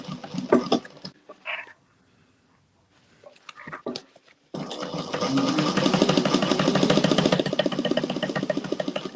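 After a few scattered clicks and handling noises, a sewing machine starts up sewing two layers of cotton and runs steadily with a rapid, thumping mechanical rhythm.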